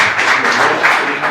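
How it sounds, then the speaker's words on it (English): A brief burst of audience applause at a business talk, close, bright clapping that rises and falls slightly over about a second. "So big hands up, applause, guys, for Gil Alush, CEO of Metadata."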